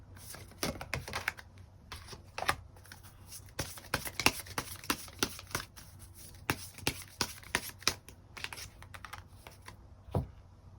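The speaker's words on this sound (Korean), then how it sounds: "5번 분들 추가 카드로 이번 1월을 더 행복하게 살기 위한 조언의 카드 무엇이 있을지 추가 카드 뽑아보도록 하겠습니다" Tarot cards are shuffled and drawn, producing a fast, irregular run of crisp slaps, flicks and soft taps close by. The sound is clear and uninterrupted, with no talking.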